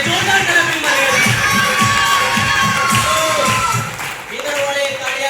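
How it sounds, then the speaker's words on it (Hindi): A seminar audience at a direct selling business talk cheers and shouts loudly in a dense, continuous crowd roar, with some clapping. The noise dips briefly near the end before rising again. "जोरदार क्लैपिंग साहब मेरे उस्ताद के लिए, जोरदार क्लैपिंग मारिएगा।"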